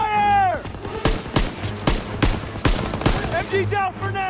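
Call of Duty: WWII battle with a machine gun firing a series of sharp, loud shots in irregular bursts, mixed with shouted voices and other game effects.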